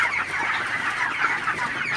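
A flock of 25-day-old broiler chickens on a farm keeps up a dense, steady chorus of close clucking and murmuring, with no voices.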